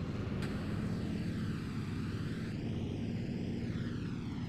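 Twin engines of a Ju 88 bomber in IL-2 Sturmovik throttling up, a loud steady droning roar with a rising whine, continuous and close throughout.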